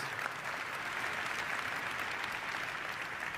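Award ceremony audience gives a long, even round of applause, a soft, distant hiss of many hands clapping with no breaks.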